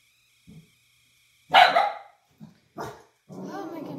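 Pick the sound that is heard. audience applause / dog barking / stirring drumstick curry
dog barking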